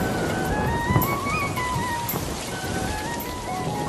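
Steady rain pours down in a dense, continuous wash, with a sustained melodic tone running over it and no speech.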